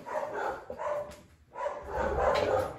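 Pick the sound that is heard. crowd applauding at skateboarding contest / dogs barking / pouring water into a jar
dogs barking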